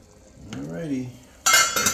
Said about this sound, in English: Chopped meat is simmering.